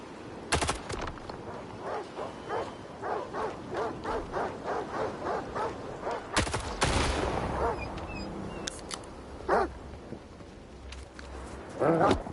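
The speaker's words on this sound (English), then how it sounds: "Looks like we got some dogs up here" In the video game Stalker 2, a pack of mutant dogs barks in a rapid, rhythmic series of yaps. Sharp gunshot bursts cut in, followed by scattered yelps and a few further shots.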